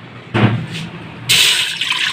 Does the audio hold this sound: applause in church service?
no